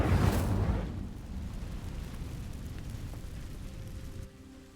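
A fire spell cast in the video game Hogwarts Legacy: a sudden loud whooshing burst of flame that flares and then settles into a sustained rumbling crackle, fading slightly near the end.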